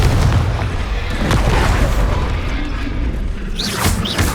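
Blasts of the Confringo fire spell in Hogwarts Legacy, a loud booming explosion with rumbling crackle that fades, followed near the end by a couple of sharp whooshing magical bursts.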